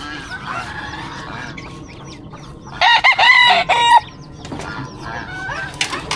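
Chickens and roosters in backyard pens, with one loud rooster crow rising clearly in the middle over a steady low background of clucking hens, and scattered softer fowl calls near the end.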